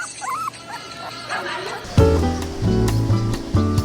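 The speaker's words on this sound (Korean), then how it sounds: "주인을 기다리는 귀여운 강아지에게도" A cute puppy waits for its owner at a seaside port market in Sinan, giving a few faint whimpers. Louder bustle, talk and clatter take over halfway through.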